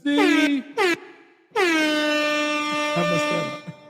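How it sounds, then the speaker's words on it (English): A loud air horn with a deep, foghorn-like tone blasts three times: two short bursts, then a longer sustained blast, close by and dominating, with a faint voice murmuring near the end. "Sound like a foghorn."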